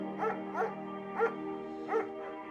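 A German shepherd in the Firewatch video game gives four or five evenly spaced barks, clear and close, each a short tonal yip over a steady low hum.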